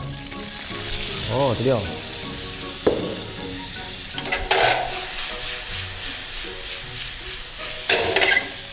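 Onions drop into hot oil in a heavy, thick wok for a spicy beef sambal and fry with a loud, close, continuous sizzle. Bursts of stirring and a short spoken exclamation sit on top.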